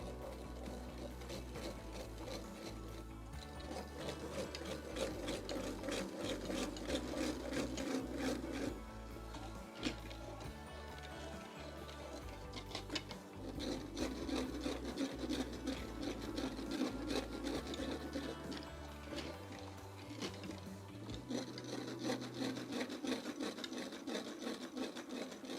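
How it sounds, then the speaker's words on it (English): A mixture of soy milk powder and coconut cream powder for sago pudding is stirred in a bowl, making a steady, rhythmic scraping and rubbing that stays faint and continuous. "Now I will just give it a good stir."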